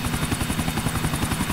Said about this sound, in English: I never drove in a helicopter before, Captain!